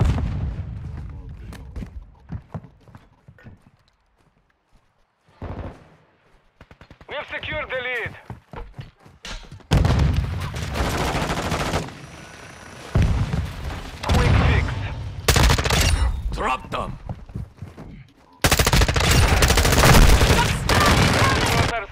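Call of Duty: Modern Warfare II combat with heavy bursts of gunfire and booming explosions, loud and close, coming in waves between quieter stretches, with voices in the game heard in places.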